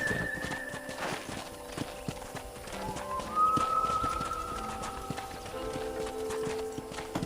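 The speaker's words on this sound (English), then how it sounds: "I picked out a fine horse for you." Horse hooves clip-clop steadily at a walking pace amid ambient outdoor ranch noise in the video game Red Dead Redemption, with occasional bird calls and a brief whinny in the background.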